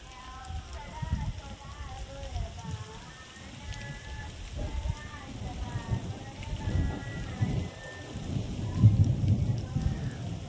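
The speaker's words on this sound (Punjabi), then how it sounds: "ਉੱਤੇ ਰੱਬ ਨੇ ਮੀਂਹ ਪਾਉਣਾ ਸ਼ੁਰੂ ਕਰਤਾ" Morning rain falls over fields of ripe wheat as a continuous patter, with deeper rumbling gusts swelling and fading beneath it, steady and moderately loud throughout.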